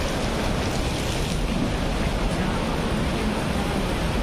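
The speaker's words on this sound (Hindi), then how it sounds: "क्या ही पानी बह रहा है" A rushing mountain river on the trek from Gaurikund to Kedarnath, a dense, steady broadband roar of cold, fast-flowing water, continuous and even throughout.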